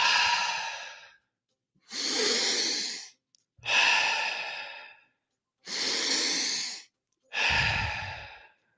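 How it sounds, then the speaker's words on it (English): Deep, slow breaths during a guided breathwork exercise, five long inhale-exhale cycles in a steady rhythm with short pauses between them, close and clear with no talking. "Breathing deep into your belly, into your chest, and let that go."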